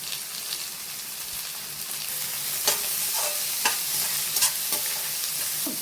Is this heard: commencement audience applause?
no